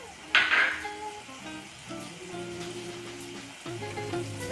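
Potatoes fry in a pan with salt and are stirred, giving a loud scraping stir near the start and then a steady sizzle with faint tonal hum underneath, close and continuous.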